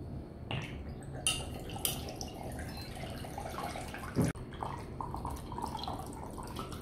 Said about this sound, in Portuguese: vamos colocar 500 ml de cachaça aqui nesse pote